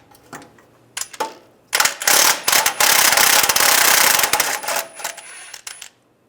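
Ratchet wrench with a 13 mm socket loosening a nut on the transmission dipstick tube of a 2007-2013 Chevrolet Silverado, giving a dense run of quick metallic clicks for several seconds after a few isolated clinks, close and fairly loud.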